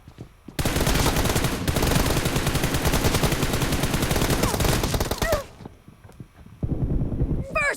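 Rapid, sustained gunfire in the mobile shooter PUBG Mobile during a team deathmatch, loud and continuous for several seconds before breaking off, then resuming briefly near the end, with no talk over it.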